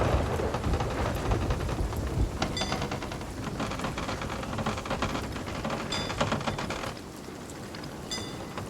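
A stormy sea in Sea of Thieves, with steady heavy rain and low rumbling wind that stay loud and constant throughout, broken by scattered sharp creaks and clicks from the ship.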